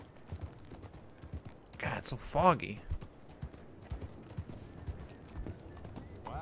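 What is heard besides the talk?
horse hooves clip-clopping in the Red Dead Redemption 2 video game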